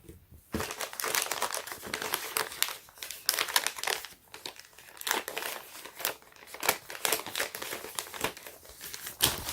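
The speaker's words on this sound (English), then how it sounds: "let's go ahead and unwrap this real quick." Plastic packaging around a Supreme Mini Box Logo tee is crinkled and torn open, giving a close, continuous rustle with sharp crackles throughout and no talking.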